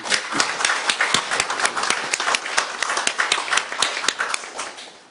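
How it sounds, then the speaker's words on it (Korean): Sustained audience applause at the close of a forum debate, many hands clapping densely and steadily for several seconds, fairly loud with no talking over it. "박수 한번 보내주십시오."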